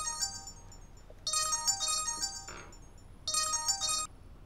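A mobile phone rings with an electronic melodic ringtone in two separate bursts split by a pause, moderately loud and close, with no talk.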